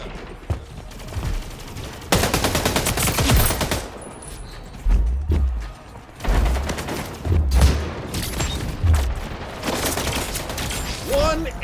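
Video game arena combat with a new power weapon firing in loud, sustained bursts, alternating with booming impacts and mechanical clatter, as a player talks over the action.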